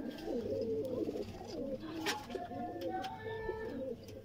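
Several Sialkoti red pearl pigeons coo steadily and close by in a repeating, throaty rhythm, with a faint voice murmuring in the background.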